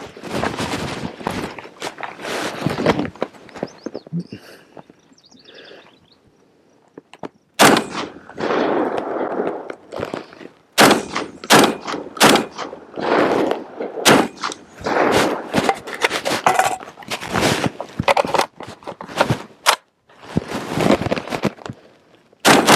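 A UTAS XTR semi-auto shotgun fires slugs outdoors toward a distant berm: loud sharp blasts in quick strings, a short quiet pause, then more rapid shots that echo.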